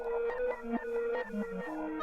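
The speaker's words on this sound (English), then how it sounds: "We can listen to the Toneflx render by itself." A Toneflx render heard on its own, the trippy reverse-processed keys gliding between sustained tonal notes with soft swells and bends. Quiet, smooth and continuous for about two seconds.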